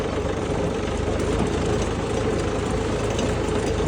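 Steady, loud diesel engine rumble of a four-wheel tractor with a low throbbing chug, continuous throughout and close by, no voices.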